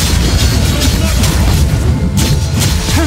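Loud, dense explosion as a turret is destroyed in League of Legends: Wild Rift, a continuous booming blast layered with crashing game effects over roughly three seconds.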